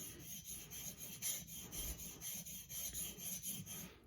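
A marking knife is drawn back and forth on a 320 grit sharpening stone, making a steady rhythmic rasping scrape of about eight strokes, quiet and close with no talking.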